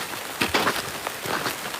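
A heavy rain downpour hisses steadily and densely throughout, with brief louder gusts of splashing rising over the constant wash; no voices.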